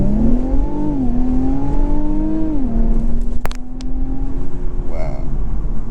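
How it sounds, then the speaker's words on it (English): A 2021 Infiniti Q50 Red Sport 400 with twin turbos launching hard from a brake-torque start, its engine note climbing loud and close through gear shifts, then settling into a steady high cruise drone with a brief click near the end. "we're going to do a quick acceleration, see how it does"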